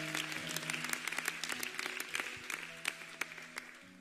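A church congregation applauds together, dense clapping with sharp individual claps rising through a steady wash, some sustained tones underneath.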